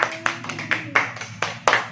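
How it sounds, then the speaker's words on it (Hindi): A small group claps hands at a birthday celebration, giving about eight sharp, uneven claps close by with no other sound. "ताली बजाओ जल्दी।"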